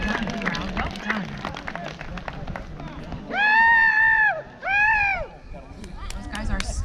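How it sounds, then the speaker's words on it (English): Costumed reenactors at a historic fort battle demonstration yell and scream in the distance over crowd murmur and footsteps, with two long, loud sustained shouts rising out of the background noise partway through. "You can hear them screaming over there."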